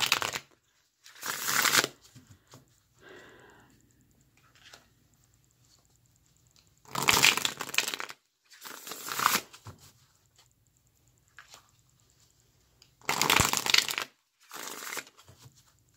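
A deck of tarot cards is shuffled in several short, close bursts of riffling and flicking, separated by quiet pauses, with no voices.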